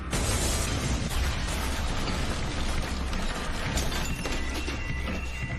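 Explosion at the World Trade Center during the September 11 attacks, heard as a sustained, loud, dense roar of rumbling debris and crashing with sharp bursts throughout, no voices over it.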